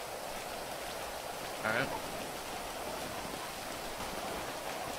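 Steady, even rain hisses throughout in a video game, with one brief spoken word partway through.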